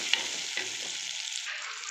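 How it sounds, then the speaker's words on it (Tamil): Onion and tomato sizzle and crackle in a hot pan while cooking fish curry, with a few soft scraping stirs of a spoon over the steady hiss. "வெங்காய தக்காளி நல்லா வதங்குது."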